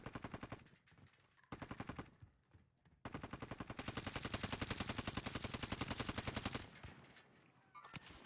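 Automatic gunfire in the Call of Duty video game, rapid machine-gun bursts with short pauses, then a long sustained stream of shots, loud and close with no talk.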